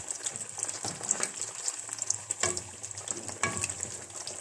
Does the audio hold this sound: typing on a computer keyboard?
no